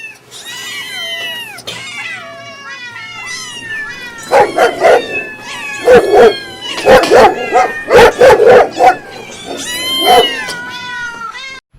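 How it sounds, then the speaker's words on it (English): A crowd of cats gathered in a tent in a park yowls and screams in a loud, overlapping chorus of rising and falling wails that swell into dense bursts, with sharp dog-like yips mixed in. "They hate goddamn cats screaming just as much as we do."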